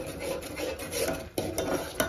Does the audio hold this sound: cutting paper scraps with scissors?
no